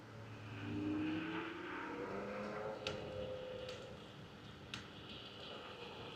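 A steady Ausom DT2 Pro electric scooter motor whir with a rising pitch as the ride speeds up, continuous and fairly close, with a couple of light clicks over it.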